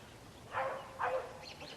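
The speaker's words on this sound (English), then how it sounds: "He wouldn't be barking like that unless he did." A hunting dog barks twice in the distance while chasing a deer, two short clear barks about half a second apart over quiet outdoor background.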